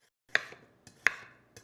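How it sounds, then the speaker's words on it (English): A knife slices through a whole frozen ripe banana, giving two sharp cutting strikes with short scraping tails and a lighter third tap, close and distinct against a quiet background. "I usually peel and freeze these bananas in advance, and I freeze them whole because they're easy to pull apart that way and then still super easy to slice"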